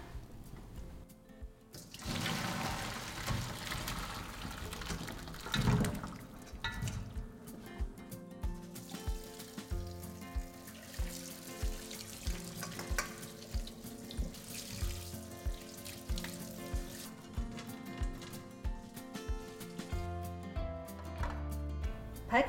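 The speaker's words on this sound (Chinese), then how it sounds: "来把排骨清洗一下" Tap water runs into a kitchen sink while pork ribs are rinsed, a steady splashing stream with rhythmic clunks and shifting as the ribs are handled, close and fairly quiet, without talking.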